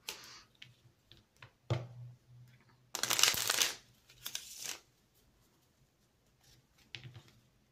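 Oracle cards riffle and slide as they are shuffled for a tarot-style reading, coming in soft bursts with one longer, louder shuffle in the middle, close and crisp in a quiet room without talk.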